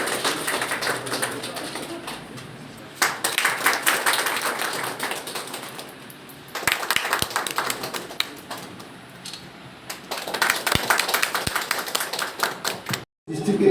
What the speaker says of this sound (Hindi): मैं बुलंद तालियां बजाइए।